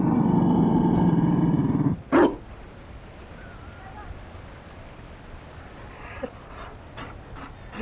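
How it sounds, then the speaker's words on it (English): A Mabari war dog in Dragon Age pants and growls loudly and close for about two seconds, followed by a sharp bark-like burst, then quiet game ambience with faint scattered clicks. "You... found a dog?"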